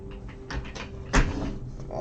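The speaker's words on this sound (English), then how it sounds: "I should probably shut the door a little bit more" A door being pushed partly shut in a home, a soft creak and slide followed by a dull thud of contact, close and brief against quiet room noise.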